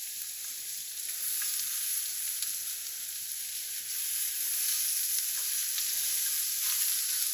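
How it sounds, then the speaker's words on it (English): Shrimp sizzling steadily in a hot pan, a bright, even crackling hiss that holds at moderate loudness without pause and with no voices. "So I'm going to go ahead and throw these shrimp down."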